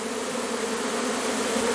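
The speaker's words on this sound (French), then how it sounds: "Ça fait du bruit un tout petit essaim comme ça quand même." Dense, continuous buzzing of a small swarm of honeybees, close and steady with no pauses.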